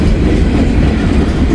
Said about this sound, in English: I still don't know if it's an actual train